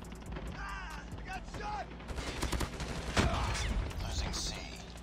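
Rapid, close hip-fire bursts from an HBRa3 rifle in Call of Duty Mobile, dense repeated shots building loud and steady through the scene amid other in-game battle noise.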